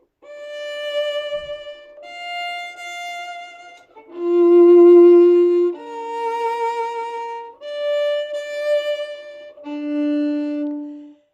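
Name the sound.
violin phrase played with separate, unjoined notes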